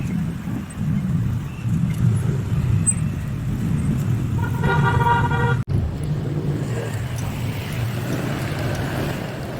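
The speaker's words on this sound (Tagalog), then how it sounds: "Traffic here." Busy street traffic: a continuous rumble of passing cars with a brief horn toot in the middle, heard from close by on a bike ride.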